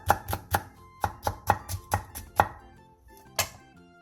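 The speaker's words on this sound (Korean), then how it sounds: "청양고추 2개와 홍고추 1개에 길게 칼집을 넣은 뒤 쫑쫑 썰어주세요." Green Cheongyang and red chili peppers chopped with a knife on a cutting board: about a dozen crisp, close thuds in a quick, slightly uneven rhythm, then a short pause and one final chop.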